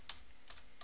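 A few separate keystrokes on a computer keyboard while editing in Vim on Linux, three soft, close clicks spaced about half a second apart in a quiet room.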